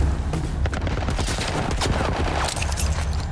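Gunfire in The Last of Us, a loud, close barrage of overlapping shots and bursts with sharp cracks and booms throughout, no voices.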